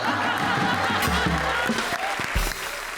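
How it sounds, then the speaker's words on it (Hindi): A studio audience claps steadily throughout at a comedy show taping for Comedy Circus Ke Ajoobe, with a few scattered chuckles mixed into the dense, fairly loud wash of hands. "तालियां भाई तालियां अर्चना बेन के लिए है"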